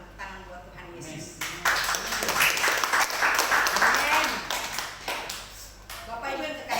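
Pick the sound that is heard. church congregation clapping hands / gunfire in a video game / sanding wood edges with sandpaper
church congregation clapping hands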